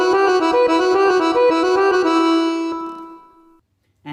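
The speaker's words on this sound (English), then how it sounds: "if I play the organ instead of the master" Electronic keyboard set to an organ tone, a sustained chord of stacked harmonic notes pulsing in steady rhythm for about three seconds, then fading out into silence.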